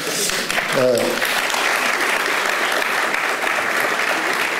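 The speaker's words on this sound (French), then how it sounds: "Je ne sais pas pourquoi vous applaudissez à ce moment-là particulier." Applause from the audience at a French political debate on the 2014 European elections, loud and dense clapping that holds at a steady level throughout, with a brief voice rising over it near the start.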